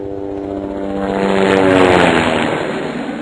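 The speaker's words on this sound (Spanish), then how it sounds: "Igual con un helicóptero." A helicopter passes overhead, its rotor-and-engine drone swelling to a loud peak midway and then easing off with a falling pitch, heard alone.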